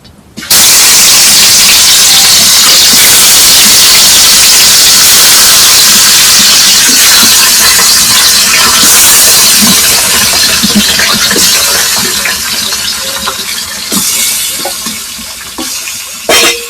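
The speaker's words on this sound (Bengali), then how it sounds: "এখন মাছগুলো কড়াইতে দিয়ে দেব।" Fish being fried in hot oil in a wok, a loud, steady, dense sizzle and hiss that carries on throughout with crackling pops, easing slightly toward the end.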